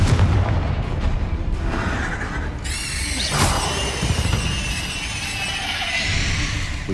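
Bombarda and Confringo spell explosions in the video game Hogwarts Legacy, a run of loud, dense booming blasts over a rumbling low end, with a bright crackling, sizzling burst rising midway and lingering to the end.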